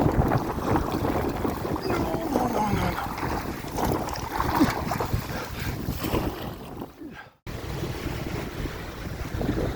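Strong wind buffets the microphone while large waves slap and wash against a small boat on Lac Caribou, with a rough, continuous roar and a brief dropout near the end.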